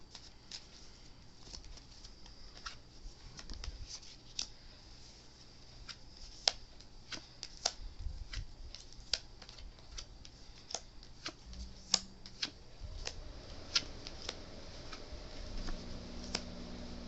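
Tarot cards are shuffled by hand at low volume, a steady soft patter of card edges riffling and tapping with scattered sharper clicks throughout, alone without any talk.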